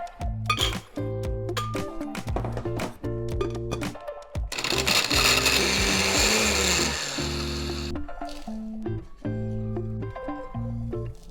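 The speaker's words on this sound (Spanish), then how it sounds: "Yo, para más rápido, lo haré en la licuadora." Blender crushing María cookies into crumbs, a loud gritty whir lasting a few seconds, framed by sharp clinks and knocks of the jar and lid being handled nearby.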